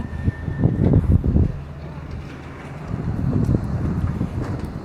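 Wind gusts buffet the microphone at Boten railway station on the Laos–China border, a steady rushing roar that swells and eases over a few seconds with no clear voices.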